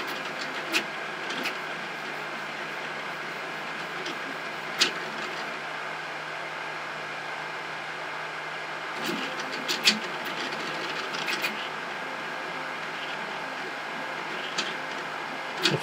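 A 3D printer running a 600 mm/s, 35K-acceleration torture test, producing a constant whirring, buzzing motor drone with occasional sharp clicks and rattles over it.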